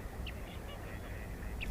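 Ducks quack at a lake among a flock of pelicans, two short calls standing out over steady outdoor background noise at a moderate distance.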